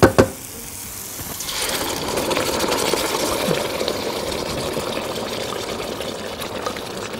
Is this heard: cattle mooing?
no